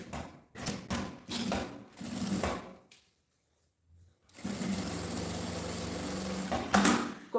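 A sewing machine stitches printed fabric to the lining of a cosmetic case in several quick bursts, then goes quiet before one long continuous run, close and clear.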